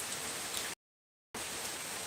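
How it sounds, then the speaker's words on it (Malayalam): Steady rain falls on an open surface, a dense even hiss that cuts to brief silence partway through and then resumes unchanged. "സൂപ്പർ മഴ കിട്ടിക്കൊണ്ടിരിക്കുകയാണ്"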